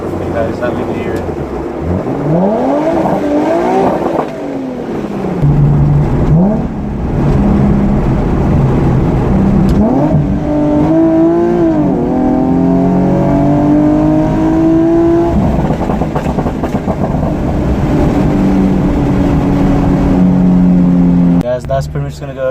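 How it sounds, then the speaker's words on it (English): A Nissan 370Z with a high-flow cat is revved repeatedly, the engine climbing and falling through loud, raspy sweeps close by, with a person talking over parts of it. "I'll rev it for you guys."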